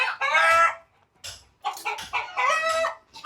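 Chickens clucking with a rooster crowing, several loud harmonic crows and squawks in uneven bursts separated by short gaps, close by and with no talking.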